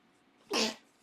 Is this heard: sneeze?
yes